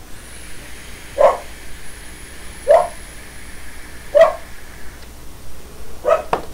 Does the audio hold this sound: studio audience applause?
no